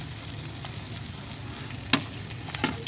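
Dried fish (tuyo) fries in a pan with a continuous close sizzle and a few sharp pops and spatters, with no talking.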